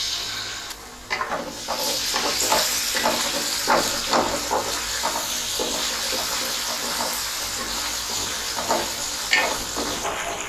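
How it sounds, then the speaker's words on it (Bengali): Lightly frying vegetables with chopped onion and ginger garlic paste in a pan gives a steady, close sizzle. Frequent scraping stirs run through it and no one talks. "এবার এটাকে আমি হালকা ভেজে নেব।"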